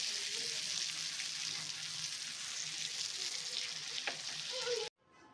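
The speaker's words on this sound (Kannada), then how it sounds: "ಈಗ ಫಿಶ್ಶು ಚೆನ್ನಾಗಿ ಫ್ರೈ ಆಗಿದೆ." Bangada fish fry on a hot tawa, a steady close hiss of sizzling oil with faint scrapes, cutting off abruptly near the end to near silence.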